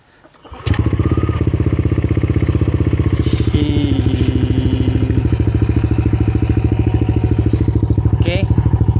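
A Yamaha Aerox/NMAX scooter fitted with a 4S1M Street Core V3 exhaust fires up and idles loudly close by, a rapid, even engine pulse with a couple of short throttle blips rising in pitch.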